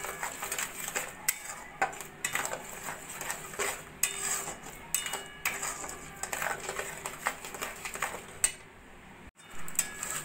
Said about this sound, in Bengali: এইভাবে লো ফ্লেমে আমের পিউরিটাকে আমি শুকনো শুকনো করে নিচ্ছি